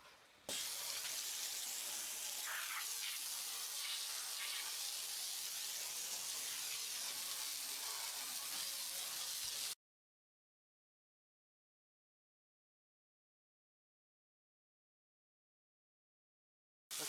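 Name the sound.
pump sprayer running clean water through on automatic flow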